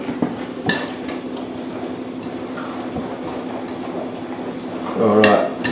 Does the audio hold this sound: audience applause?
no